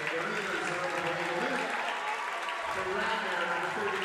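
Crowd applauding and cheering at a jam-packed high school basketball game, Radnor against Archbishop Ryan, a steady wash of clapping from a large indoor audience under an announcer's voice.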